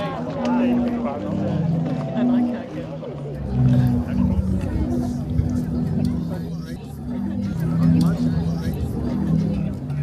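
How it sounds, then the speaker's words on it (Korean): Croatia's sea organ, where waves push air through pipes set into holes beneath stone seaside steps, sounds low, breathy, sustained tones that overlap and swell irregularly over a steady wash of water and background murmur. "가만히 귀를 기울이면 오르간 소리가 들립니다."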